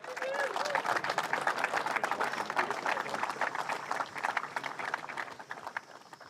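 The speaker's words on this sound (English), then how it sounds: "Please also be generous in your applause for Nikita Johnson." Sustained audience applause at a motor racing podium ceremony during the Castrol Toyota FR Oceania Championship, a dense steady patter of many hands clapping that eases slightly toward the end.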